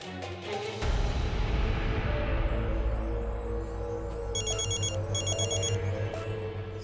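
A telephone rings while a call is placed, with repeated electronic trilling bursts over a loud music background.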